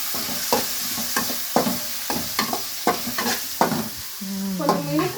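Noodles frying in a pan with turmeric, stirred in a series of distinct scraping strokes over a constant sizzle, loud and close, with a spatula clatter near the end.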